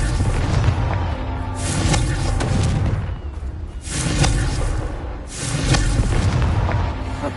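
Repeated heavy booming blasts of the Confringo fire spell in Hogwarts Legacy, three loud, broad bursts spaced about two seconds apart, each rumbling and crackling before fading.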